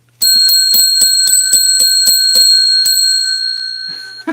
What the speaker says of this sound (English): we ring the bell 10 times